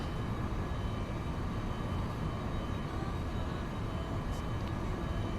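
Steady, loud drone of an aircraft engine in the X-Plane 11 flight simulator, a continuous broadband roar holding level throughout with no talk.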